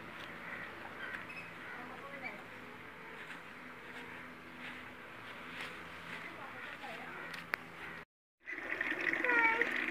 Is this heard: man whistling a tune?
no